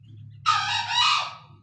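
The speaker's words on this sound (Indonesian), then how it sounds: "Jadi kalau siang-siang itu ayam hutannya bunyi" Junglefowl calling by an aviary, a single loud, close, harsh call lasting about a second over a low steady hum.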